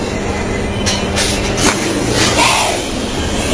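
A train rumbles past at height with a steady, loud rolling roar and brief metallic squeals, with a faint crowd murmur underneath.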